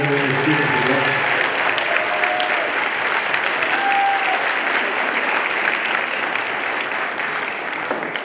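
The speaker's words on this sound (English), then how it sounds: "join me in giving one more round of applause to Mr. TK for putting this together." An audience gives a long round of applause after a fifth grade winter concert at a school, many hands clapping in a full, even roar that holds steady for several seconds with faint voices and cheers mixed in.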